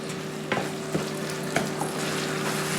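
Bourek filling with Chinese vermicelli, parsley and coriander frying in a pan as its leftover water cooks off, a steady close sizzle with a few scraping stir knocks and no talking.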